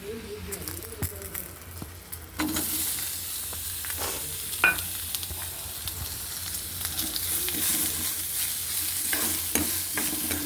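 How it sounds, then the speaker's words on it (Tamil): Onions sauté in a pan with whole spices, giving a close, continuous sizzle that swells after a few seconds, with scraping stir strokes throughout. "இந்த வெங்காயம் நல்லா வதங்கணும்"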